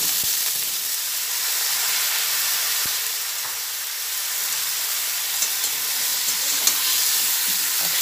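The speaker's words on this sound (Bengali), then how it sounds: "একসঙ্গে সব মিশিয়ে ভেজে নিচ্ছি" Cut and washed eggplant is mixed and fried in a pan, producing a constant loud sizzle with occasional faint stirring knocks, steady and close for the whole stretch.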